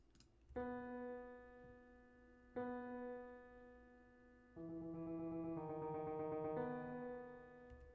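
Soft electric keys play sustained chords in a slow repeating pattern, faint and a little echoey, with no voices.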